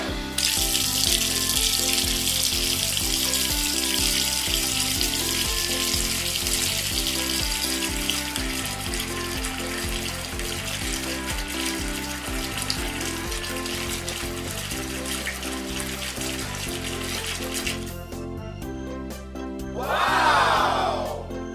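Water in a small tub or sink while a Baby Annabell doll is bathed, a continuous hissing wash of splashing and running water lasting many seconds over steady tonal humming, with a brief swirling splash near the end.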